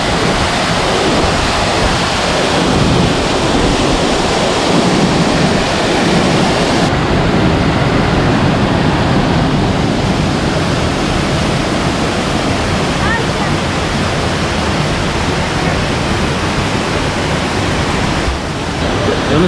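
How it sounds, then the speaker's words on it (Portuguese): A waterfall roars continuously, a dense, loud rush of falling water that fills the scene without letup; a voice may speak faintly beneath it. This is the second-largest cascade of the Saci River near Antonina, Paraná, Brazil. "Essa é a cascata número 2 do rio Saci, a segunda maior queda."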